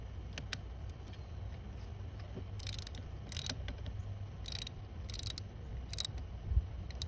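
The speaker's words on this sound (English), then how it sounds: "I had to get my ratchet set so that I can unscrew the cables from the" A ratchet clicks in short bursts while loosening the cable clamps on a car battery during a battery swap, with a close, crisp pawl ratcheting repeated several times over quiet background.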